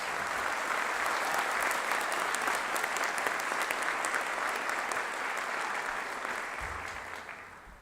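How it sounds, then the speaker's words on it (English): A large audience at a spring doctoral hooding ceremony claps steadily in sustained, dense applause that holds for several seconds and gradually fades at the end. "Can we take a moment and give a round of applause to all the family, friends, and mentors?"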